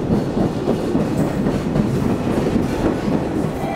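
A train rumbles along with a steady, dense roar of wheels on track, continuous and fairly close, with no voices.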